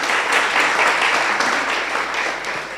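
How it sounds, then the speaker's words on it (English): An audience at a memorial lecture applauds Strathmore Law School in a sustained, even round of clapping that stays loud throughout and eases slightly near the end. "Can we give a round of applause to Strathmore Law School?"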